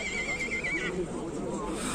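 A horse neighs briefly at a livestock market in Bazar-Korgon, its whinny rising over steady crowd chatter and market noise.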